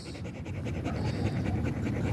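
Dogs pant in quick, rhythmic breaths close to the listener, a steady run of short huffing exhales over low background rumble, with no talking.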